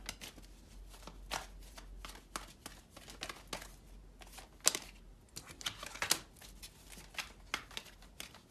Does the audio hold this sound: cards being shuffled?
yes